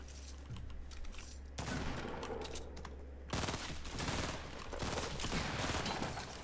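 Rapid, dense gunfire from the pump shotgun in the video game Fortnite: loud overlapping shot bursts that continue throughout, with a steady low hum underneath.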